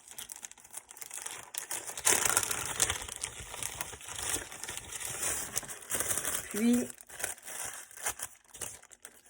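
Sheets of carbon paper and tracing paper are handled for transferring a pattern onto wood, with crisp crinkling and rustling bursts close by under a person's talk.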